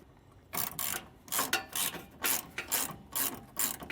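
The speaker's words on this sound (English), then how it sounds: "you can come back through with your 1/2-inch wrench and socket to tighten it down fully" A ratchet wrench with a 1/2-inch socket tightens the lock nuts on Timbren active off-road bumpstops on a 2022 Ford, giving repeated bursts of sharp ratcheting clicks in a steady back-and-forth rhythm, close and clear.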